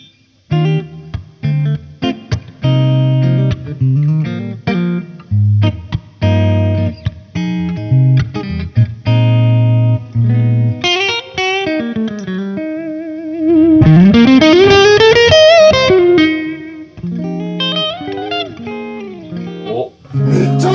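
An electric guitar played through a JACKAL MIDNIGHT pedal with reverb: clean, loud picked notes and chords, then a sweeping bend and sustained ringing tones with a reverb tail, no talking.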